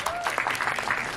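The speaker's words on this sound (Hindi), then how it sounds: "भूषण जी को एक बार जोरदार ताली चाहिए।" Audience applause for Bhushan Kumar at a song launch event, a brief dense burst of clapping with voices mixed in.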